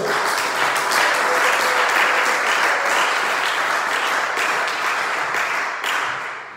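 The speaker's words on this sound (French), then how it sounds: "Acclamons le Seigneur." A church congregation at a Sunday worship service applauds the Lord, with loud, full, continuous clapping from a large crowd that fades slightly toward the end.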